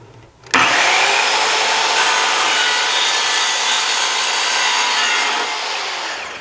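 An Evolution multi-material track saw cuts through Schedule 40 PVC pipe: a loud, continuous high-pitched whine and rasp starts abruptly and holds steady for about six seconds, then fades slightly as the cut ends, with no talking.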